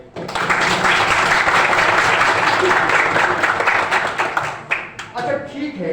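An audience at a school gathering claps and applauds loudly and steadily for about five seconds, then the clapping thins into a few scattered claps.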